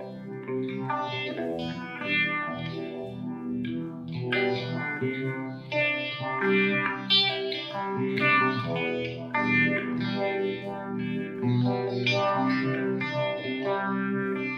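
An electric guitar played through a combined chain of effects pedals, with chorus, distortion and echo giving a thick, shimmering, sustained tone; continuous melodic playing, loud and close, no voices.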